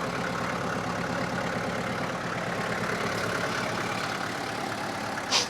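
A tractor engine idles steadily close by, a continuous low rumble with an even pulsing chug that holds at constant loudness throughout, with a brief faint bump near the end.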